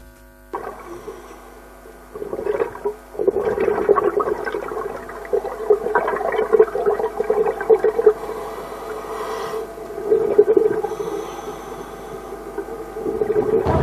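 Gas bubbles stream from an active underwater volcano, heard as gurgling, burbling bursts of varying loudness that come in irregular clusters over a low background hum, recorded close by underwater.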